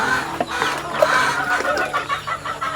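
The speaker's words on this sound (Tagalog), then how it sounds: "Marami siyang pangtari na mga manok." Chickens cluck in a backyard pen on a small pig farm in the Philippines, several birds calling in short, overlapping bursts against steady farmyard background noise, fairly close.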